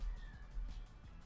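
A kitten cries out in a hallway with a short, faint meow-like call, somewhat distant and alone over a low background rumble.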